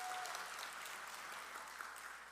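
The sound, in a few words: audience applause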